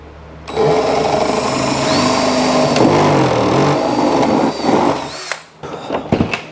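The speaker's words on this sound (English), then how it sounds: "I'm drilling a hole in the bottom of this for" A power drill whirs steadily and loudly for several seconds, boring a hole through the bottom of a Club Car Precedent golf cart part, its pitch wavering as it bites in, then stops with a few clattering knocks.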